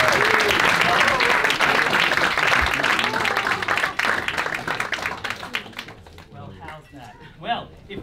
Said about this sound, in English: How about another big round of applause for Glenn?